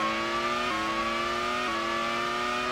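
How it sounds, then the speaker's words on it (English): A McLaren Formula One car in a 2003 racing game howls at very high speed near 225 mph, a steady high-pitched engine whine stepping up through gears twice, loud and close, with no talk. "This McLaren is very fast, and even more so in the slipstream, 225 miles an hour"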